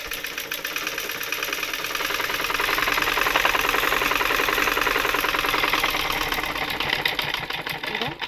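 An electric sewing machine runs continuously while stitching a straight seam on a dress, a steady, close, rapid mechanical whirr and patter with no pauses.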